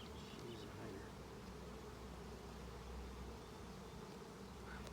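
Honey bees swarm over all eight frames of a hive box, making a dense, steady buzzing drone that fills the whole stretch without a break.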